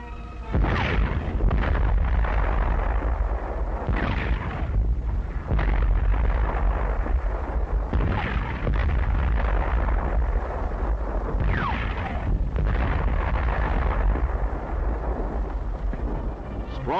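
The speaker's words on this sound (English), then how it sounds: "On this great range, our tanks are spitting steel." Tanks from 1940 firing their guns on a training range, a series of heavy booms and blasts recurring every few seconds over a constant rumbling, muffled old-film-style background with no talking.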